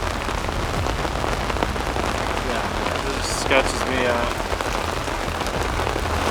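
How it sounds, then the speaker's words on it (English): Steady rain falls during a brutal Colorado mountain storm on a slick, dangerous mountain road, a constant broadband wash heard throughout while people talk nearby. "a brutal Colorado mountain storm rolls in, causing us to take cover"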